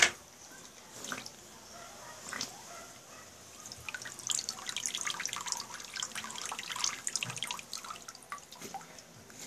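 Water from a backyard swimming pool splashes and trickles as the last of it is emptied out, with drips at first and then irregular close sloshing and spattering that builds and continues without speech.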